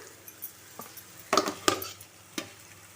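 A pan of sautéed onions, curry leaves and garlic gets chopped tomatoes stirred in. Faint sizzling runs under a few sharp clinks and scrapes of a spoon against the pan, with the loudest knocks clustered in the middle.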